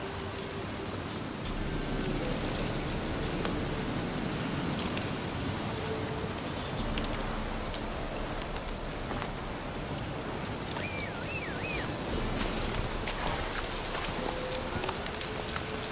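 Rain falls steadily in the video game The Witcher 3: Wild Hunt, a continuous even hiss of droplets that holds the same level throughout, with faint hoof clops and small game sounds beneath it.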